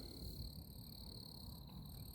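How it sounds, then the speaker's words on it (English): Crickets chirping at night outdoors in the quiet, a faint, steady high-pitched trilling hum that carries on unbroken, with a low background rumble and no voices. "the crickets, it's like a low hum, a very low hum"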